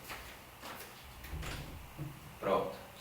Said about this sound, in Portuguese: tenho que abrir a porta para minha gata